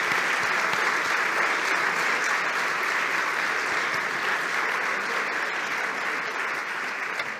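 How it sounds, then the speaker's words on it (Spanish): An audience applauds for Alicia at a diploma ceremony, steady and sustained clapping from a full room that continues evenly throughout and fades slightly toward the end. "Un aplauso para Alicia."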